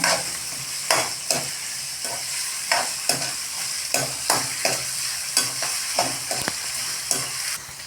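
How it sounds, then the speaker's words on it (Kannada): Onions and capsicum fry until brown for paneer Hyderabadi, sizzling loudly and continuously as a spoon scrapes through them in a quick, regular rhythm of stirring strokes close by. "ಈರುಳ್ಳಿ ಬ್ರೌನ್ ಕಲರ್ ಬರೋ ತನಕ ಸ್ವಲ್ಪ ಹುರ್ಕೋಬೇಕು ಇದನ್ನು"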